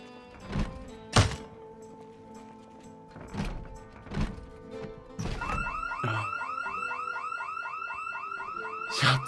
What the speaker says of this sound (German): Bitte keine Alarmanlage.